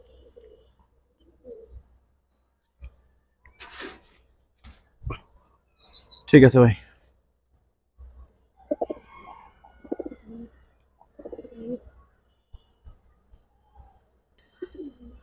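Giribaz pigeons coo in short, soft bursts scattered among quiet gaps, with occasional sharper calls and brief speech from people nearby.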